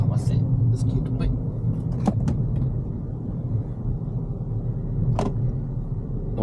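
A manual car pulls away in third gear during a driving lesson, its low engine rumble steady and close inside the cabin, with a few clicks and knocks over it.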